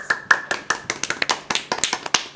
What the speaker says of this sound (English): You gotta clap like this.